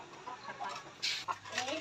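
A hen clucks in short, soft bursts close by, scattered across a brief stretch with a few sharper calls, over a faint background hum.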